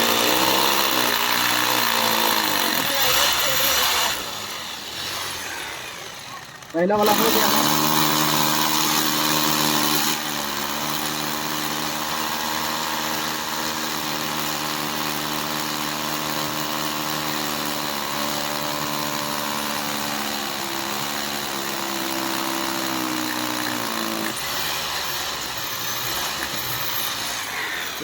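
A power drill bores holes into a concrete wall to fit a TV wall mount, its motor whining in long sustained runs that stop, dip and restart, with someone speaking briefly in Hindi.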